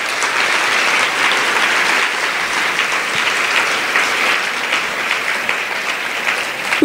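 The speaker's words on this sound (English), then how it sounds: "let's have another great round of applause." A loud, unbroken wave of audience applause fills a meeting hall at an opening session, a thick crowd clapping steadily from start to finish with no voices on top.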